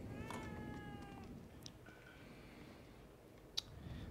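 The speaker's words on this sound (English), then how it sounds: "What's up, kitty? Kitty, kitty, kitty." A domestic cat gives one clear, drawn-out meow up close, followed by quieter chirps and a sharp little click over a low background hum.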